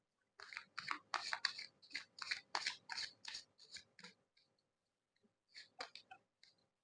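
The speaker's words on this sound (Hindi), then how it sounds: "और थोड़ा सा शफल करते हैं, आफ्टर दैट निकालेंगे।" Tarot cards are shuffled by hand, a run of crisp riffling flicks and soft slaps in quick irregular bursts, close and clear, trailing into a few scattered snaps after a short pause.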